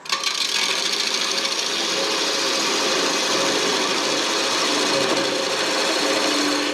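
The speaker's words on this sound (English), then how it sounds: "A roughing gouge." Wood spins on a lathe against a roughing gouge, making a loud continuous rasping, whirring cut with a steady tone running under it. The sound stays close and even from start to finish.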